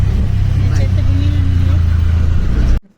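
An auto rickshaw ride on city roads brings a loud, steady engine drone with rattling low-frequency chug close by, broken only by a faint higher whine before cutting off abruptly at the end.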